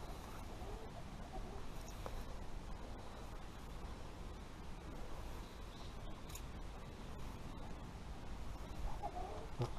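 Laying hens cluck softly in an outdoor aviary, faint scattered calls over a low steady background rumble.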